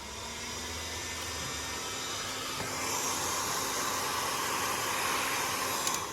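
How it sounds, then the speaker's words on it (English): A hot air gun at a middle setting blows steadily while heating a Samsung Galaxy S10e phone screen during a repair, a constant close broadband hiss and whoosh that swells slightly partway through. "I'm using the hot air gun, not the highest level, like a middle"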